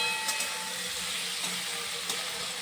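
Ridge gourd sautéing in a pan, a steady soft sizzle and hiss of frying with faint crackles, continuous and close, no voices.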